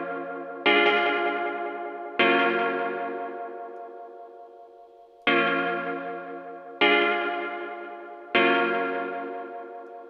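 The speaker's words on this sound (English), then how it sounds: "I've got the repeats quite high. Repeats is your feedback, because you want it to feed back into the delay. That's how you get that self oscillation." A bell-like synth chord through a Logic Pro X delay with high feedback, five sharp strikes whose sustained repeats ring and decay steadily between hits, loud and clear with no voice.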